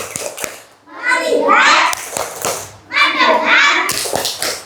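Primary school classroom doing a 'tepuk fokus' clapping ice-breaker: children chant loudly in unison, punctuated by sharp rhythmic hand claps in short bursts, close by.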